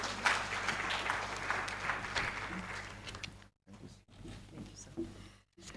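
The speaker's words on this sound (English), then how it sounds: "Please, another round of applause for the representative of the former Minister of Information." Applause at a climate, conflict and fragility summit in Nigeria, a dense spread of clapping that runs for a few seconds, then breaks off in brief drops and thins to scattered claps.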